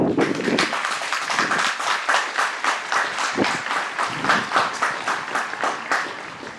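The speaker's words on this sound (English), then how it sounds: "Please give Scott Zach a nice round of applause" Outdoor crowd applause at a Memorial Day ceremony, a full round of distinct hand claps rising and falling in clustered bursts for several seconds.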